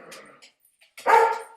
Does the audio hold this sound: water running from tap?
no